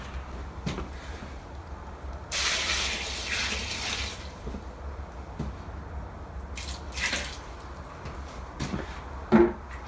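Filtered water pours into whole grains set out to soak for sheep, pigs and chickens: a few short splashing pours separated by quieter dripping and clinks, with a low hum underneath.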